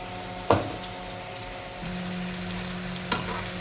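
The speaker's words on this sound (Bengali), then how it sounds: "কড়াইয়ে সরষের তেল দিয়ে পাঁচফোড়ন দিয়ে দেব। পেঁয়াজ লঙ্কাগুলো ভেজে নেব।" Onions and chillies frying in mustard oil in a wok, a soft continuous sizzle with two sharp clattering stir hits and a low steady hum underneath, no speech.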